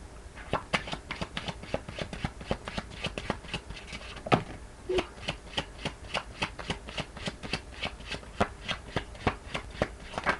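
Tarot cards are shuffled close up in a quick, steady run of crisp riffling slaps and soft flutters, repeating rhythmically without any talk.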